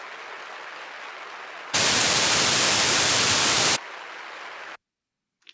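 A loud broadband noise burst cuts into recorded applause for about two seconds, steady and harsh, before the clapping texture returns and then stops, as in an auditory illusion demonstration.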